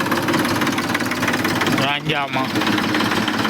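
Tractor engine running, a loud continuous rumbling knock with a rapid mechanical rhythm, close by, with a voice speaking briefly over it.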